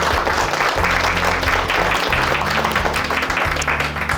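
An audience at an Old Main Foundation festival reception in Summersville gives a loud, sustained round of applause, with a low steady hum or music droning underneath.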